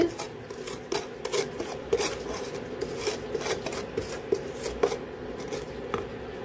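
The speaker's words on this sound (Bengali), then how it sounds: "সুজি ভাজা হচ্ছে।" Semolina roasting in a pan, stirred with a spoon so that it scrapes along the metal. Dry rasping strokes repeat in an uneven rhythm, close and moderately loud, with no talking.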